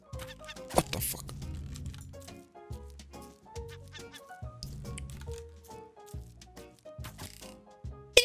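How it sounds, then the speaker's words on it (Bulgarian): Chickens on a farm in the survival game Raft cluck repeatedly and close by, with bursts of clucking and squawks in an uneven rhythm, while a few brief clicks and thumps break in. "фермата за пера и за пилета стана още по-ефективна"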